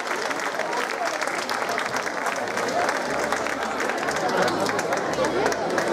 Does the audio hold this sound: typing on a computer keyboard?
no